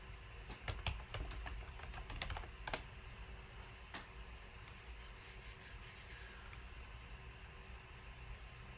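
Rapid clicking keystrokes on a computer keyboard, close and fairly quiet, in irregular bursts during the first few seconds, then sparser isolated taps over a low steady hiss.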